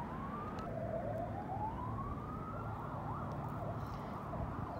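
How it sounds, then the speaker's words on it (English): Emergency vehicle sirens wail and yelp in the distance, rising and falling across the whole stretch over steady outdoor noise while out on the water in a kayak. "Just don't like hearing those sirens while we're sitting out here in the water."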